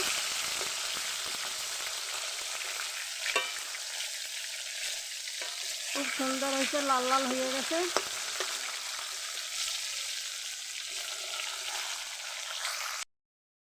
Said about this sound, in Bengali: দেখুন মাছ ভাজা হয়ে গেছে এক পাশ, আর এক পাশ উল্টিয়ে দিচ্ছি।